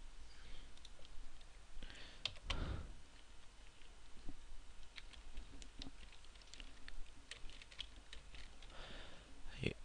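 Soft, irregular clicking of a computer keyboard while text is typed in, faint and intermittent over low room noise.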